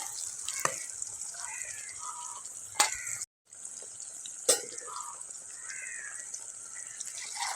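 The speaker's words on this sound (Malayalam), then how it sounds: "വെള്ളം ഒഴിച്ച് കൊടുക്കുക" Water poured into a simmering onion and ground coconut curry in a pan brings a steady sizzle and bubbling, broken by a couple of sharp utensil clinks, with soft splashing throughout.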